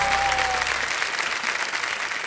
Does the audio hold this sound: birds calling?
no